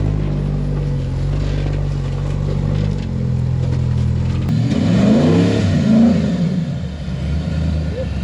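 A V8 off-road rock crawler on a desert trail, its engine droning loudly and then revving up and down with rising and falling pitch, with voices talking over it.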